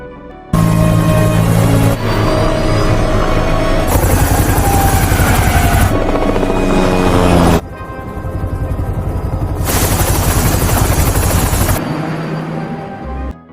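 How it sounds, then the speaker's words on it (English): Loud, close helicopter rotor chop pulsing rapidly and continuously, with the engine whine shifting in intensity as it runs. "Nick rushes to a helicopter, and they fly to the scene"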